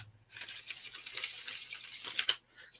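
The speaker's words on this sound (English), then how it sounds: "So I do the whole bridge thing where you shuffle them." Playing cards are riffle-shuffled and bridged by hand: a fast, crisp, fluttering riffle lasting about two seconds, ending in a sharp snap, close and alone with quiet before and after.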